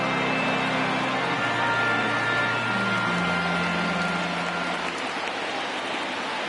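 A steady, dense crowd roar fills a stadium in the baseball video game MLB The Show 19 as fans rise for a full count, a constant wash of noise with no voices standing out.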